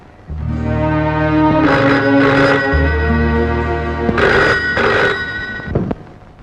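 An old telephone bell rings in a Telugu film scene, loud and close, in two long bursts of ringing separated by a brief pause, with no talk over it.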